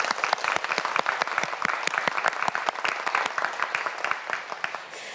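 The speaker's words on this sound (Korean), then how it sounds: "저희가 큰 박수 다시 한번 보내주죠" Dense, lively studio audience applause on a Korean science quiz show, many hands clapping close together and sustained for several seconds before tapering slightly at the end.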